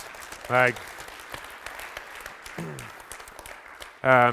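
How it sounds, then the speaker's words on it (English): Audience applause for the founders at a Founder Institute Waterloo launch event, a light patter of clapping running under brief bursts of voices and cheers. "a big round of applause for the founders"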